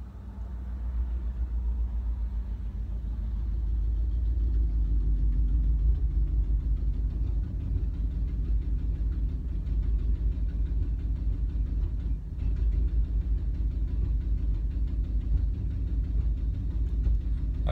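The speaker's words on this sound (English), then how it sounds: "That's not a motorcycle, that's a motorhome" A motorhome engine runs steadily with a low, continuous rumble, close and moderately quiet, a smooth idle-like drone with no voices.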